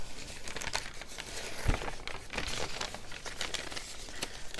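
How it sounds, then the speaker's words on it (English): Paper-backed lace doily with book page being folded into quarters, giving soft continuous crinkling and rustling with one sharper crease, close and quiet, no voices. "I've backed those with book page, and then I fold the doily in quarters."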